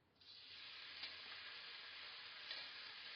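Paneer cubes fry in two tablespoons of hot oil in a kadhai, a steady close bright sizzle that starts abruptly and holds evenly, with a couple of brief louder spits and no voices.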